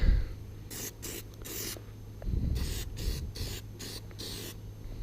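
Repeated bursts of spraying rubber coating from an aerosol can onto a Toyota Supra interior, short hissing blasts separated by brief pauses, close to the microphone with low background rumble.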